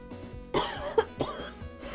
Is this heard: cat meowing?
no